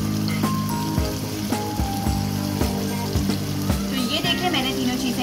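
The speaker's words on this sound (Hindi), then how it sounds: "अब मैं इसको अच्छे से दोबारा से मिक्स करूंगी ताकि जो बाकी के टमाटर हैं वो भी फ्राई हो जाए अच्छे से और मैश हो जाए" Tomatoes with salt, chili and turmeric fry in a pan with a steady, close sizzle, broken by several sharp clicks and knocks from stirring and mashing.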